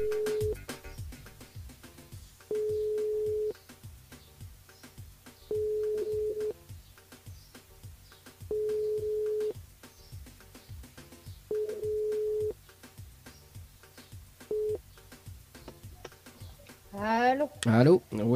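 A telephone ringback tone pulses in regular long beeps at low volume while a radio host calls a listener, with faint ticking underneath and a brief warbling sweep near the end.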